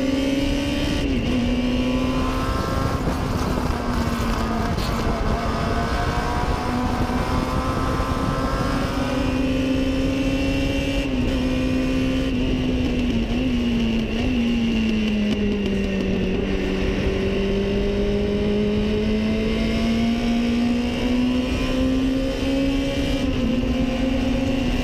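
A 1962 Lotus 22 Formula Junior race car drives on a track, its engine droning loudly and continuously throughout as the pitch rises and falls with shifting and cornering, with no talk.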